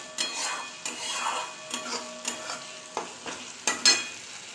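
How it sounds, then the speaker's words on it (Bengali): Spice paste of cumin and ginger being sautéed in a pan, the spatula scraping and stirring in repeated strokes over a low sizzle, close and otherwise quiet. "তাই মশলাটা আমি ভালো করে কষিয়ে নিই।"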